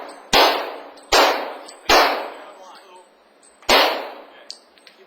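Pistol shots on a police training school shooting range, four loud close cracks with metallic ringing tails, the first three about a second apart and the last after a longer gap, with faint clinks at the end.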